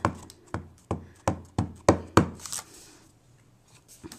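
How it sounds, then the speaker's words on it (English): Rubber stamp pressed onto paper during card making, giving a run of six or seven sharp, evenly spaced taps followed by a few fainter knocks, close up and without talk. "I'm going to kind of mix it up a little bit and do 2 of them, and I'm going to stamp that up"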